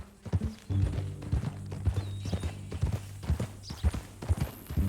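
Horse hooves clip-clop in a steady walking rhythm in Red Dead Redemption 2, close and moderately loud, with low tonal game music underneath and no talking.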